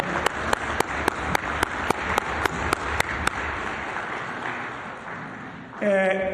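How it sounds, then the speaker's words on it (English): An audience at a municipal investment summit applauds the mayor, with dense clapping punctuated by regular sharp claps for several seconds before it fades and a voice begins speaking. "Another round of applause for our mayor"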